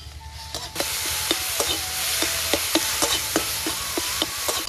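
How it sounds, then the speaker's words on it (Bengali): Chopped ginger and garlic fry in hot oil in a pan with a loud, continuous sizzle, punctuated by regular spatula taps and scrapes about twice a second. "আদা কুচি, রসুন কুচি একসাথে দিয়ে আমি ভালো করে এটা ভেজে নেব।"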